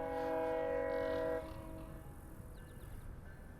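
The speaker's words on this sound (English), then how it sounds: "That's the train." A loud, steady train horn blares for over a second, then the rumbling of a passing train continues with faint chirps above it.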